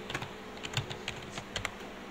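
Keys clatter in short irregular bursts as Java code is typed on a computer keyboard, close and fairly quiet, with no voice over the tapping.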